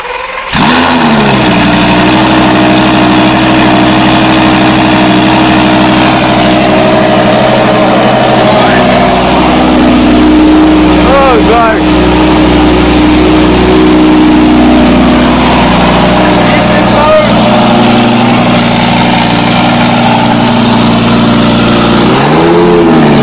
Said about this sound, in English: I think we're gonna get the cold start up, I guess